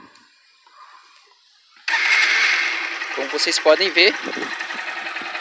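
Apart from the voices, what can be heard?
motorcycle engine idling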